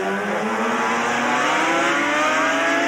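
A race car at Symmons Plains roars at full throttle: a loud, close, steady engine drone whose pitch climbs slowly over the whole stretch.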